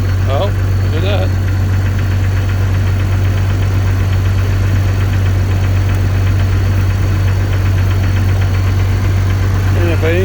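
An aircraft engine idles steadily, a continuous low drone with a vibrating rumble, loud and close throughout, with brief faint background sounds.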